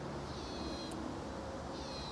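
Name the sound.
bird calling outside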